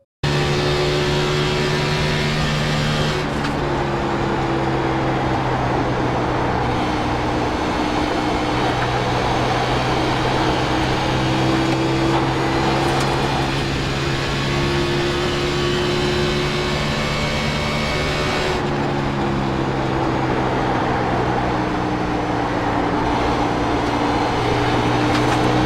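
A race car engine drones steadily through a lap at Homestead in the iRacing video game, loud and continuous with shifts in pitch as it changes gear and speed, with no voices.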